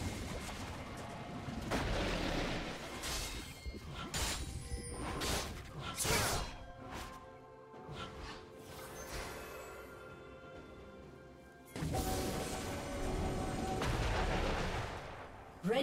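A turret being destroyed in League of Legends, with loud booming blasts, crashes and whooshing impacts in bursts, then a quieter stretch before another heavy burst of destruction.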